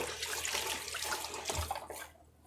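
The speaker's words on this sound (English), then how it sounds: "let me wash my hands" Tap water runs in a kitchen sink as hands are washed beneath it, a soft steady splashing hiss that cuts off near the end, quiet and close.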